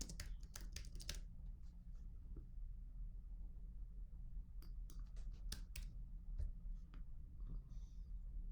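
Computer keyboard typing, quick bursts of key clicks in a quiet room, faint and close, clustered at the start and again in the second half, with gaps of soft background hum between the bursts.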